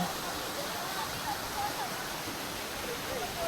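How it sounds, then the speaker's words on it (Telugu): Katiki waterfall near Araku pours from a height, heard as a continuous, even roar of falling water, with a voice faintly audible beneath it. "వాటర్ ఫాల్స్ అయితే చాలా ఎత్తు నుంచి అయితే వాటర్ అయితే కింద పెట్టుకుంటుంది"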